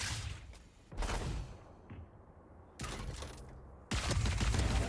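Gunfire from the tactical shooter Valorant during a competitive esports match: three sharp bursts of rapid shots separated by brief quieter gaps, loud and close, with a final heavier volley.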